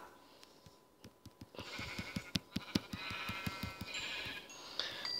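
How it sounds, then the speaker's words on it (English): Sheep in the Minecraft video game bleat in a quick series of short, overlapping calls over quiet game ambience, fairly faint, with no speech. "Oh, lots of sheep."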